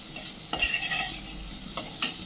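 A spoon stirs a mixture in a hot pan while for gunta ponganalu batter, giving scraping strokes and soft clinks over a low sizzle, close and brief, with no talking.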